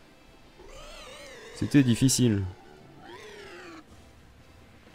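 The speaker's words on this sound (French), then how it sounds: "on risque peut-être d'entendre un chat qui ronronne, c'est normal" An indoor cat lets out two drawn-out, wavering meows, the first louder and more strained, the second softer. A person speaks briefly over the first call.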